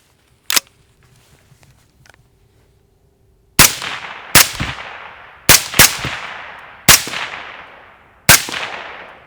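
A scoped rifle fires freehand downrange outdoors. Seven loud, sharp shots ring out, each with a ringing decay: one alone, then six in a quicker, uneven string after a quiet gap.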